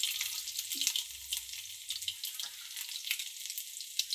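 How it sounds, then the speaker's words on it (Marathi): Garlic and mustard seeds sizzle and crackle in hot oil, a steady close hiss broken by small pops and spatters, with a faint low knock or two and no speech. "आता हे लसूण टाकते, मोहरी तर फुटते."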